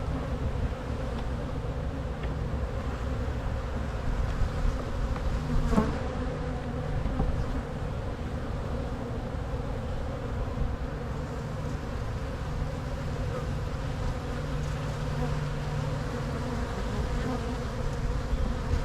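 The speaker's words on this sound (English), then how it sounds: "These are carniolan bees." Carniolan honey bees buzz steadily during an early-season hive inspection of a weak colony, a dense, continuous close-up drone that holds at an even level throughout with no talking.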